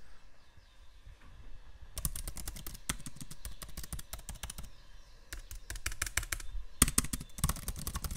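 Rapid, close-up clicking of keys being typed on a Mac laptop keyboard, in quick bursts with short pauses between.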